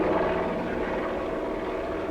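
An AH-1 Cobra attack helicopter flies past, a steady rumbling rotor and engine drone of even loudness throughout, with a brief low thump near the end.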